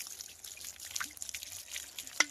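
Water splashes and trickles in a rural Bengal setting, a continuous uneven dribble with small drips and one brighter splash near the end, fairly close and without talk.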